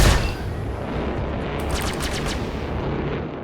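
Gimbaled ship weapons firing in the space game Star Citizen open with a loud blast and then roll into a dense, rumbling barrage with rapid crackling bursts partway through, no speech.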